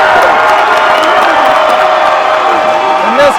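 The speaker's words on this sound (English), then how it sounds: "And this crowd, man, I'm struggling just to talk over it." A loud crowd at a heavyweight MMA event in Michigan roars and cheers steadily, a dense wall of noise with a commentator talking over it.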